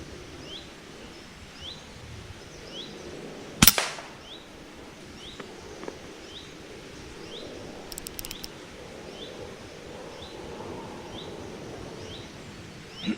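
A single sharp air rifle crack rings out in woodland during a grey squirrel hunt, followed by a brief second snap, with birds chirping faintly in the background.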